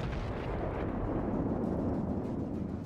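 Heavy, rumbling explosions boom continuously as torpedoes strike a warship in World of Warships, a dense, loud roar with no gaps.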